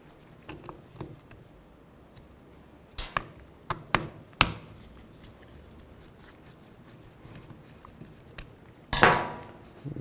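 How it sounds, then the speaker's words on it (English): T20 screws come out of the back of a 2000-2006 Chevy Tahoe steering wheel, heard as sparse sharp metallic clicks and taps with small handling rustles between, close and fairly quiet, with no speech. "On the back side, there's two screws. Use a T20. Take these screws out."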